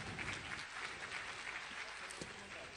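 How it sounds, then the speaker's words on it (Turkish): Audience applause at a Turkish music talk show, a steady wash of clapping from a crowd that holds for the whole stretch, fairly dense and even, with faint voices mixed in underneath. "Evet tekrardan bir alkış istiyorum ben."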